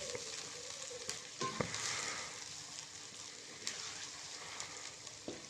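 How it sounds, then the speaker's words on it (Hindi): Chopped tomatoes and spices frying in a pan give a steady soft sizzle, with a few scraping stirs and clinks breaking through now and then. "इसको 2 मिनट लगेंगे टमाटर को नरम होते हुए, तब तक इसको अच्छे तरीके से हम भूनेंगे।"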